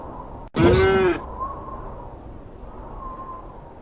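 A single cow lets out one loud, close moo lasting about half a second, followed by quieter background sound.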